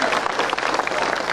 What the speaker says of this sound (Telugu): అవునన్న వాళ్ళు చప్పట్లు కొట్టండి